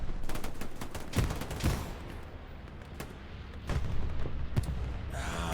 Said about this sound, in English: That is another bombing run.